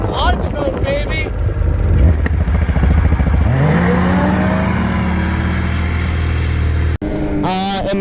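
A 2022 Ski-Doo Mach Z 850 snowmobile launches hard with launch control, its engine rising in a loud sustained roar that builds and holds, briefly cut near the end before resuming.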